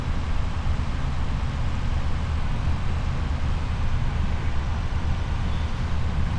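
Truck engine in a farming video game during disking and grain hauling, a steady low droning rumble that holds at an even level throughout with no pauses.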